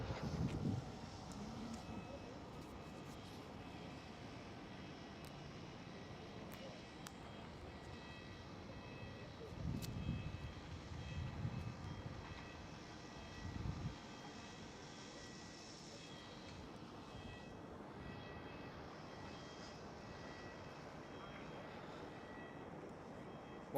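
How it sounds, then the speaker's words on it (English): A KLM Boeing 787 airliner on runway 18 left at Schiphol, its engines giving a faint, distant, steady roar that swells briefly in low rumbling bursts midway before settling back to a soft hum. "I see KLM 787 ready on runway 18 left."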